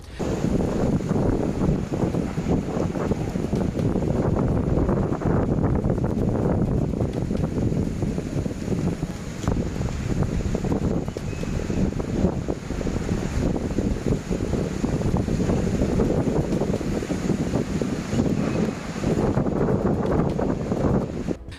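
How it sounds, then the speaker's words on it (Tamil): A whirlwind sweeps over a flooded field in Thrissur, Kerala during heavy rain, a continuous roaring, buffeting rush of wind and churned water that surges and eases for over twenty seconds. "மழைநீரை சுழற்றி அடித்து சூறாவளி காற்று கடந்து செல்லும் போது எடுக்கப்பட்ட வீடியோ காட்சியும் வெளியாகியுள்ளது"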